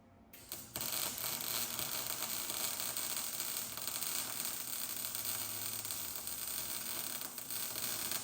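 Arc welding metal pieces into a truck bed for a raised tilt bed floor, a steady loud crackling hiss with a constant buzz that runs without a break after a brief quiet start.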